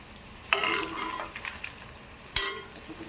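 Spinach pakoda batter is mixed by hand, giving two sharp wet scrapes followed by softer squelching and stirring sounds that are close and moderately loud.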